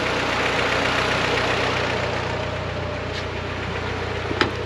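A boosted BMW G23 project car engine idles cold, a steady low rumble with a faint ticking running through it and one brief sharp click near the end.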